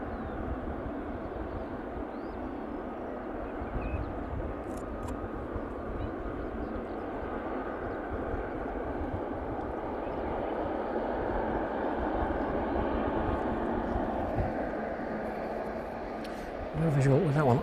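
A Boeing 777 jet airliner at East Midlands airport gives a steady, broad engine roar that holds for the whole stretch and swells slightly louder near the end, with someone talking over it.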